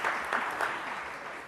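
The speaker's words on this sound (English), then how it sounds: "If you want to clap for Pastor Doug, go ahead." Audience at a neighborhood partnership annual dinner clapping for a pastor, a crowd's applause with a few sharper claps at the start, fading slightly over the short stretch.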